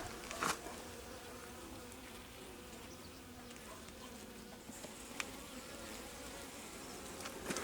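Honeybees clustered inside the boxes of an alpine beehive give off a steady, faint buzzing drone, with a few brief louder flybys close to the microphone.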